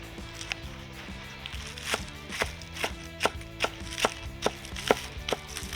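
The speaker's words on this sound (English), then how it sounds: "We'll just cut the stems off of them." A knife cuts the stems off two bundles of fresh spinach on a cutting board, about a dozen sharp, evenly spaced chops in a steady rhythm, close and clear with no talking.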